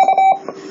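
A homemade electronic device gives a short, steady electronic beep followed by a fainter second blip, loud and close, with no voices.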